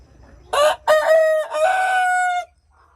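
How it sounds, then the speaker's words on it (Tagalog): A Marans rooster crows once nearby, a loud drawn-out cock-a-doodle-doo of about two seconds with a rising opening and a long sustained final note, rising alone over a quiet farmyard. "Marans yan. Marans rooster."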